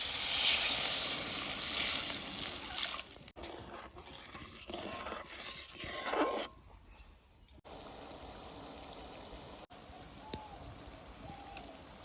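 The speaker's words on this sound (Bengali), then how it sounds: "এখন জল দিয়ে দেবো।" Water poured onto sautéed spices for katla fish curry sends up a loud hissing burst of steam, which fades to a quieter simmering sizzle with faint bubbling.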